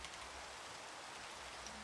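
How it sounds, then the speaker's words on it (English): Rain falling in the video game Minecraft, a steady, soft, even hiss of downpour with no other sounds. "Why is it raining?"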